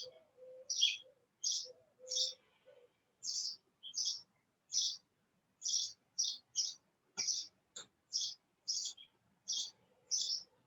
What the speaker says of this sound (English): I can hear the birds chirping outside.